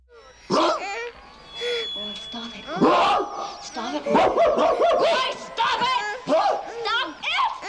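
An actor, playing a neurotic father, barks and snarls like a rabid dog in a horror film scene by Tobe Hooper; a voice imitating the dog with loud, rapid, ragged barks and yelps, alongside whining and talk-like vocalizing.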